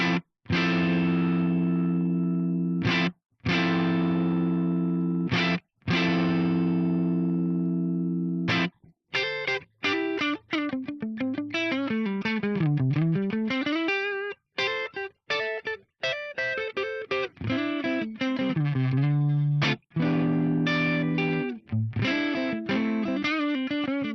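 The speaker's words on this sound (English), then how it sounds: "There's a spring reverb in there. I'm sure you'll want to hear that." A guitar played through the spring reverb of a GFI Specular Tempus effects pedal, with sustained chords and then quick picked runs trailing a splashy, drippy reverb tail; no voices.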